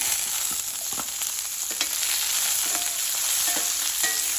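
Chopped onions fry in hot oil with cumin and mustard seeds for an okra and potato masala, a steady, dense sizzle close by with occasional light stirring clicks and no talking.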